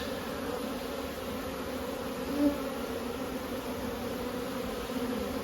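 Steady, dense buzzing of many honeybees close by at a hive in spring, a continuous drone with little change.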